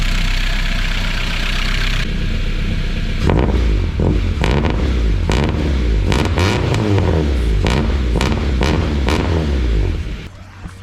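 A Honda Civic engine runs steadily with a rumbling exhaust, loud and close, with uneven pulsing bursts midway before it cuts off near the end.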